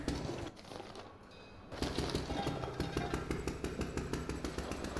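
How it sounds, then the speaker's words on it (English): A sputtering engine in the survival horror game Amnesia: The Bunker runs as a steady, rhythmic chugging after a brief dip, continuing evenly at moderate loudness with no talk over it. "God, I love that sputtering engine."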